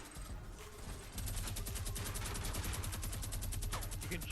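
Rapid minigun fire in the video game Fortnite rattles out as a dense, continuous stream of shots, starting with a short burst and then sustained steady firing to the end.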